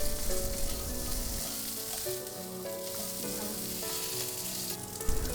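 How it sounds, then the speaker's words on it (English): Asparagus sizzling and frying in a hot pan, a continuous crackling hiss under a steady melodic music bed, with no talking. "Then add in the asparagus and continue frying."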